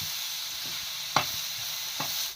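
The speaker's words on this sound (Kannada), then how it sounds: "ಇವಾಗ ಎಣ್ಣೆ ಕಾಯ್ಕಿಟ್ಟೀನಿ ರೀ ಕುಕ್ಕರ್" Oil heating in a pressure cooker, a soft steady hiss broken by two sharp clinks or knocks of a utensil, no voices.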